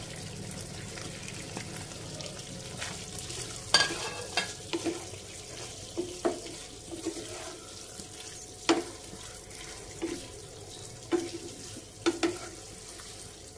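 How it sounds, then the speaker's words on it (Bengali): Pasta tossed with a spoonful of oregano and stirred in a pan for red chicken pasta, giving a soft running sizzle with scattered scrapes and clinks of the spoon at irregular intervals, close by and with no talking. "আমি পাস্তাগুলো দিয়ে নেড়ে চেড়ে নেব ভালোভাবে"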